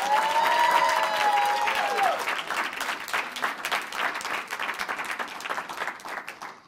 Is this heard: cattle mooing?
no